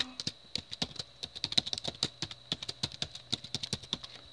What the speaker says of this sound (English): Go ahead and type in your password under there